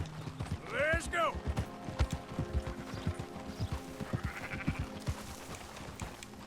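Sheep bleat in Red Dead Redemption 2, with a loud nearby bleat early on and fainter ones later, over busy hoof clip-clop from riding horses and some talk.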